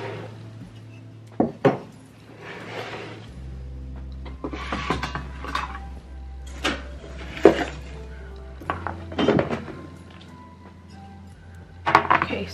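Pots being rummaged through while searching for one to hold a plant: close clunks, knocks and clinks of stacked containers scraping and bumping together at an irregular pace, with a low background hum that shifts partway through.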